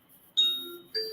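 A doorbell chime rings indoors, two clear tones in quick succession, fairly faint, with no talking.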